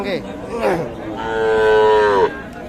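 A desi cow gives a long, loud, close moo at a cattle market, with some brief voices and background chatter just before it.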